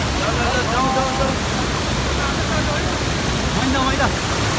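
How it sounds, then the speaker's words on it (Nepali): A natural waterfall at Sundarijal near Kathmandu roars in a loud, unbroken wash of falling water, with voices talking faintly beneath it. "नेचुरल झर्ना हेरेर बस्दा यस्तो मजा आउँछ नि होइन।"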